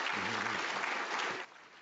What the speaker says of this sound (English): Let's give a round of applause to Steve Strawbridge as well